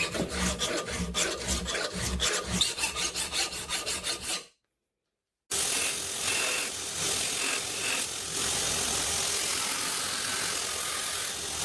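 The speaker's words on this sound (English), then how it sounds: "Draw filing by hand removes the remaining hammer marks and sets a true geometric angle before the final heat treatment." An 80CrV2 high-carbon steel knife bevel is draw filed by hand, making steady rhythmic rasping strokes, close and loud, broken by a second of silence before the scraping resumes as a denser continuous rasp.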